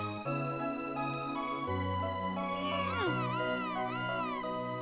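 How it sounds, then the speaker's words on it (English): Several cats meow in the Chrono Trigger DS video game, heard as sustained tonal cries over game music, with rising and falling sweeping meows in the second half and no talking. "enough of the kitties whining"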